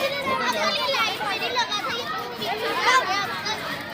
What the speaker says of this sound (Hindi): बॉन्सी में जाने के लिए बच्चों की भीड़ उमड़ पड़ी है